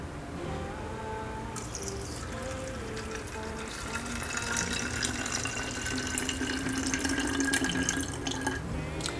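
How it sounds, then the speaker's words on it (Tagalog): Tap water runs steadily into a disinfectant generator, a continuous splashing, filling sound that grows slightly fuller as the container fills, close by with no talk. "Then put water inside."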